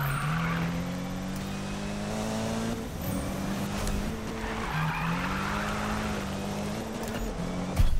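A car in Need for Speed 2015 accelerating through a final corner, its engine droning and rising in pitch through gear changes, with tire squeal over the steady roar, close and loud throughout.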